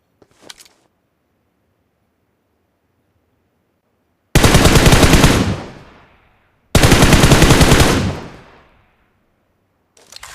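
Automatic gunfire in a mobile shooter game played on a Pocophone F1: two loud, sharp bursts of rapid shots a couple of seconds apart, each trailing off, with near silence between and a faint tap at the start.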